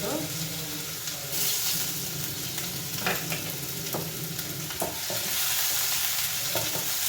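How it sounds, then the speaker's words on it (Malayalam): Garlic fries in hot oil after mustard seeds for an okra masala curry, giving a loud, continuous close sizzle with repeated spoon-stirring scrapes throughout. "കടുക് പൊട്ടിക്കഴിഞ്ഞു ഇനി ഞാൻ വെളുത്തുള്ളിയാണ് ഇട്ടിടുന്നത്"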